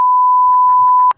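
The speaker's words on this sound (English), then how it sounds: "Is it still beeping?" A single loud, pure electronic beep holds steadily for about a second before cutting off abruptly.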